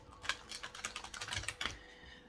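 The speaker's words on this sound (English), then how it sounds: "We're going to go ahead and shuffle 3 times." Quick, crisp flicks and light taps in an irregular flurry, quiet and close, as tarot cards are riffled and shuffled.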